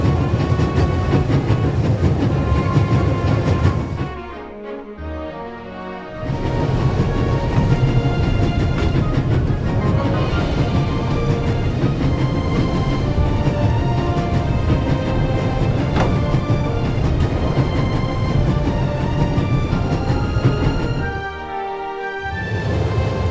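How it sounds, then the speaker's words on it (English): Steady rumbling train noise with rhythmic rolling clatter, continuous and fairly loud, dipping briefly twice as if passing through short gaps, from the video game The Raven - Legacy of a Master Thief. "There's nothing quite like traveling on a train."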